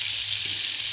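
An egg sizzles in a mix of oil and butter on a hot tawa, giving a constant, even frying hiss that stays close and steady with nobody speaking.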